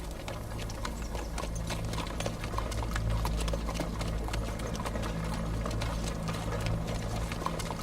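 Horse hooves clip-clopping steadily during a ride in an Ottoman-era drama, a continuous rhythmic patter of hoofbeats over a low rumbling background with no talk.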